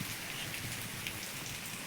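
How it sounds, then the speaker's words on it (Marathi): Steady rain falls on surfaces outdoors in early May, a dense even hiss of drops with no voices, continuous and moderately close throughout the short stretch. "छान पाऊस आलाय"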